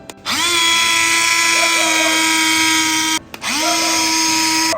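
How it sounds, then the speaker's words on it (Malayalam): Electric mixer whirring through yogurt for Kerala buttermilk curry, two loud steady high-pitched runs, the first about three seconds long, the second starting after a brief pause, close up with no talk. "കറിയിലേക്ക് വേണ്ട തൈരും കൂടെ ഒന്ന് അടിച്ചെടുക്കണം അപ്പോൾ ഇതും കൂടെ ഒന്ന് നമുക്ക് വേഗത്തിൽ അടിച്ചെടുക്കാം"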